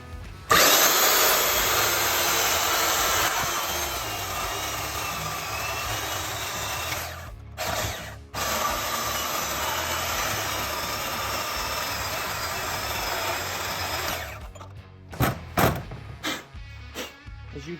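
A power tool whines loudly and continuously as it cuts a Garrett turbocharger compressor cover in half, pausing briefly twice before winding down into intermittent knocks and clatter.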